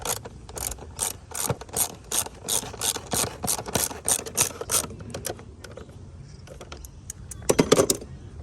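A ratchet cranks an air intake bolt on a Lexus RX330 with a Toyota 3.3 litre V6 during a starter motor replacement, giving rapid close clicking bursts that slow and thin out, then a final jumble of metallic handling.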